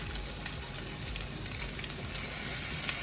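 Schezwan sauce with sugar and soya sauce sizzling in a hot pan while being stirred, a steady crackling hiss with soft spatula scrapes and small pops, close up and with no speech.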